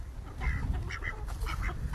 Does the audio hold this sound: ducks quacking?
yes